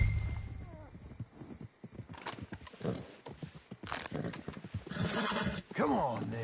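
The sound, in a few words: horse neighing and hooves, from Red Dead video game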